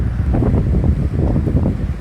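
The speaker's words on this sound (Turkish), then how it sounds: "Ve şu rüzgara bakın. Aşırı rüzgar var." Strong wind blows on an island, a constant low roaring buffet against the microphone that lasts throughout without a break.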